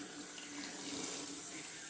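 Steady running water from a kitchen sink faucet pouring into a 10-gallon Aqueon aquarium, a continuous close hiss and splash without pauses.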